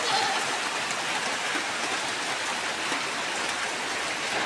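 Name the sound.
rain falling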